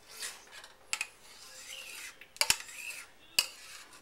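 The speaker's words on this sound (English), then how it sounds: "We're going to pour in the other half of our potatoes." Sliced potatoes tipped into a casserole dish: scraping and rubbing with several sharp clinks of utensil against the dish, close and fairly quiet, no talking.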